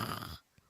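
A person imitates a snore: one short, raspy breathy rasp lasting under half a second, close and fairly loud, then quiet.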